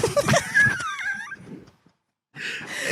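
A voice imitates the sound of pulling on tight pantyhose with strained grunts, a rising and falling squeaky whine, and effortful breathy sighs, close and loud, followed by a pause and then a breathy burst.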